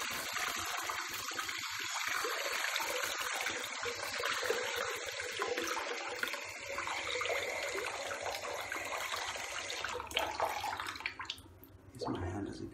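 Hot water running from a tap to heat a razor blade, a continuous splashing stream that shifts in tone and fades near the end, with some voice in the background.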